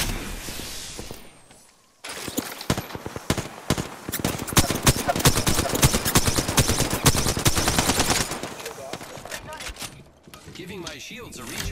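Incoming gunfire in the battle game Apex Legends: dense bursts of rapid automatic shots and impacts run for several seconds after a short quiet lead-in, loud and close, then drop away near the end.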